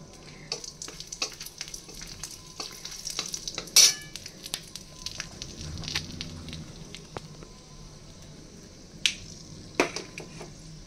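Whole garam masala spices, cardamom, black cardamom and cinnamon, frying in hot oil in a pan for a Bengali crab curry, crackling and sizzling steadily with scattered pops and sharp spits, a few louder bursts standing out, no talking.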